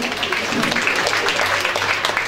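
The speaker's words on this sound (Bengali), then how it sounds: "একটু জোরে হাততালি হবে।" An audience at a college endowment prize distribution claps for a medal winner, a dense steady patter of many hands filling the hall, with a voice faintly mixed in.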